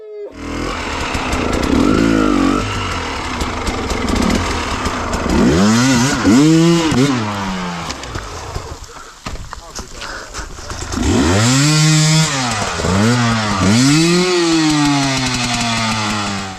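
A KTM TPI two-stroke motorcycle engine, fitted with a relocated injector, revs hard toward wide open throttle in loud rising and falling sweeps, two main bursts with a brief dip between, close by.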